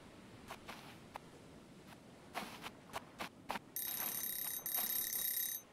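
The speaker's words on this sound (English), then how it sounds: "Phone's ringing." A phone rings in a video game set on a remote island, a bright electronic trill starting partway through in two sustained bursts after scattered soft taps and clicks.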